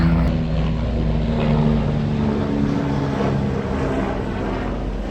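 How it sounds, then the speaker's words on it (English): A rescue helicopter from Tampa passes overhead after Hurricane Milton, its steady rotor and engine drone loud and continuous across the whole stretch. "There goes a rescue chopper."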